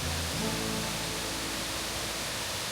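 A loud waterfall in the Atherton Tablelands roars as a dense, constant wash of water that fills the whole scene. It sounds close and steady, with nothing else clearly audible above it.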